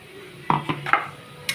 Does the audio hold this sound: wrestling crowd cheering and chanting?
no